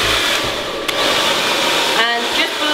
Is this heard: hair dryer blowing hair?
yes